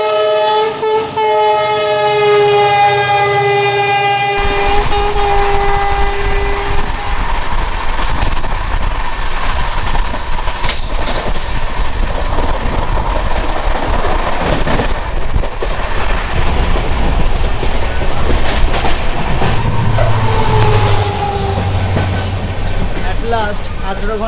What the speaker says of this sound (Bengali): লাস্ট 18 ঘন্টা জার্নি করার পর ট্রেন ঢুকছে গুয়াহাটিতে।